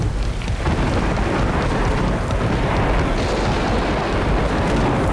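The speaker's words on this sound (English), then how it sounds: "Just as we're about to take off, thunder, lightning." Thunder rumbling through a storm in the Congo just before an aircraft takeoff, a loud continuous broadband roar with rain-like noise filling the whole stretch and no voices.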